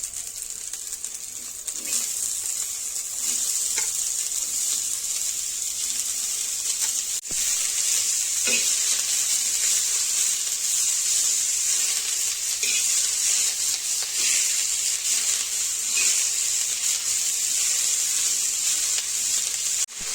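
Green chili and onion fry in oil on a flat iron tawa with a dense, continuous high sizzle and occasional soft taps from stirring, loud and close with no talking.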